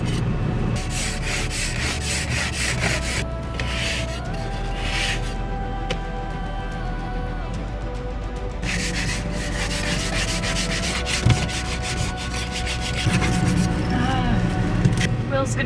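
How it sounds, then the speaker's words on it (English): Steady rough scraping of ice from the inside of a van window during an Arctic Circle winter cold snap, a continuous close rasping rub that swells in bursts, with a low engine idle beneath. "Now we gotta scrape the inside of the window."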